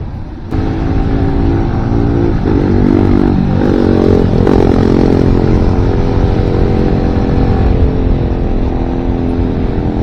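A Bajaj Dominar motorcycle being ridden, its engine note droning loud and steady throughout with a harmonic hum and some rattle, starting up sharply after a brief quieter opening.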